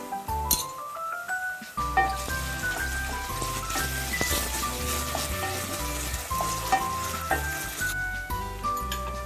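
Ginger garlic paste frying in a pan for a chicken masala, a steady close sizzle with occasional clinks of a utensil, carried over loud background music throughout.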